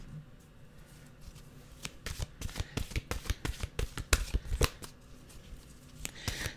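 Tarot-style mantra cards are riffled and shuffled by hand in quick, crisp bursts of flicking and slapping, close and fairly quiet, followed by a few softer taps as cards are drawn.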